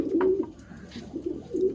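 Low, throaty pigeon cooing from a pet pigeon pair with newly hatched chicks, several soft rolling coos in a steady rhythm, close by with a quiet background.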